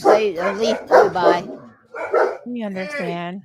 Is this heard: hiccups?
no